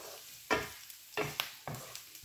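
Garlic and onion frying together in a pan, sizzling steadily up close while a spatula stirs in four or five sharp, scraping strokes.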